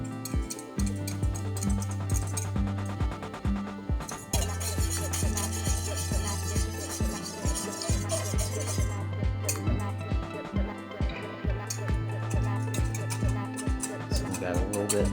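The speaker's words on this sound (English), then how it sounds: "mix up our cornstarch again" A utensil stirs a cornstarch slurry in a bowl with steady clinks and scrapes. A voice talks throughout, and background music plays.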